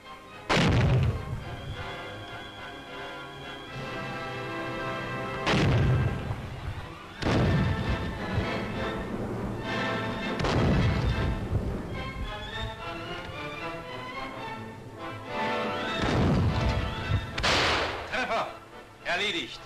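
A German 5 cm anti-tank gun fires repeatedly at a T-34 tank, several heavy booms spaced a few seconds apart with someone talking between and over the shots.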